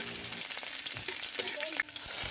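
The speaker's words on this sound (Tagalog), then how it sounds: "Ngayon, ilagay ang sibuyas." Onions sizzle and fry in hot oil in a pan for adobong sitaw, a steady close crackle with a few stirring scrapes and a short sharp clatter near the end.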